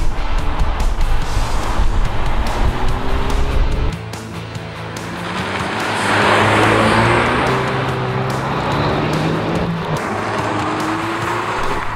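A Peugeot RCZ R 270 THP with short-ratio gearing accelerates at full throttle on the autobahn. The engine note climbs hard, breaks at a quick upshift, then keeps pulling loudly and steadily under heavy road and wind roar.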